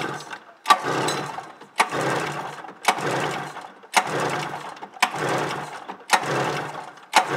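A 1993 Polaris Indy XLT 580 snowmobile engine cranks over during a compression test, giving a steady rhythmic series of about seven strained mechanical chugs, close and fairly loud.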